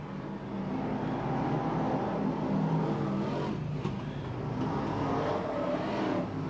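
BriSCA Formula 1 stock cars race around the Long Eaton oval in 1991, a thinned field of about nine cars giving off a steady, distant engine roar that swells slightly midway with no talk over it.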